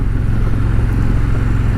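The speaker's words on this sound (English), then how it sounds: "The engine runs very," An Indian Challenger Dark Horse motorcycle engine running, a loud, steady low rumble with a smooth pulsing throb held evenly throughout, with wind noise over it.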